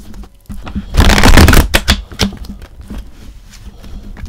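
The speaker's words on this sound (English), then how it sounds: "Let's do last shuffle." Tarot cards being shuffled, a loud, close riffle lasting about a second, followed by a few softer taps and slides as the deck is squared, with no talking.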